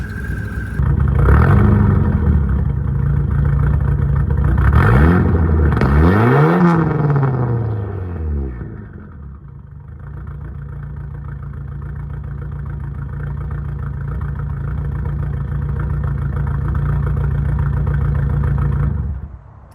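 ABA turbo engine in a Mk1 Volkswagen Rabbit truck with a loose wastegate, revving hard in two or three sharp rising bursts, then settling into a loud, steady idle, close up with no talk.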